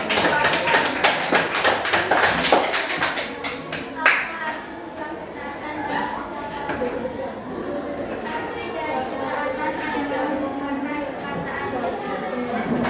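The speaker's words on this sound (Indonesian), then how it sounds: "Nah, sekarang kita berikan tepuk tangan untuk Bapak" A classroom of students gives a round of applause for a man, the clapping loud and dense at first, then fading into scattered claps under children's chatter.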